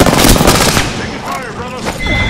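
Gunfire in Apex Legends, loud and close at first, then tapering into scattered shots, with other game sounds and voices underneath.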